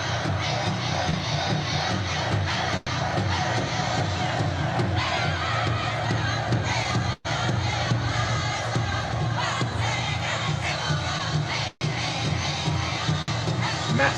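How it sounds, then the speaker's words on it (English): A massive crowd roars and cheers continuously at a live concert, a dense, steady wall of voices with only a few very brief dropouts. "Massive crowd."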